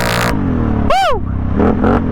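A four-wheeler ATV engine revs and accelerates close by, with a short gap where a voice lets out a rising-falling whoop before the engine picks up again.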